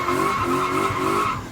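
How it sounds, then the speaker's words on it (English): Tires of a V8-swapped BMW E28 skid and squeal steadily while street drifting, a loud sustained screech with a low engine rumble underneath, continuous throughout without talk. "He left foot brakes, pedaling that gas, warming the tires up."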